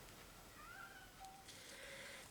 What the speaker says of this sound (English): Oh, Jeremy, please put the cat in the lounge room with you.